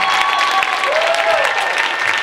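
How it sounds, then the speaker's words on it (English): A church congregation claps together in a dense, continuous burst of applause at a gospel service, with crowd voices and a held musical tone beneath. "give a hand clap for Jesus Christ"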